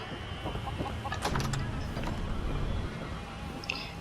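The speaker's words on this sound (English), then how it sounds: "we have our little chicken coop, and this guy's feeding the chicken" Chickens cluck in a small coop in the farming game County Crossing, where a character feeds them; soft, scattered clucks and short calls sit over a steady low ambient bed, with a brief mechanical whir near the end.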